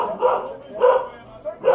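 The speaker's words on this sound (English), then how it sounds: "And that's my fucking dog barking." A dog barks nearby in short bursts, three sharp woofs spaced about half a second apart.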